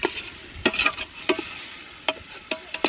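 A spoon stirs food in a cooking pot after salt is added, scraping in irregular bursts over a soft sizzle, several distinct strokes at close range.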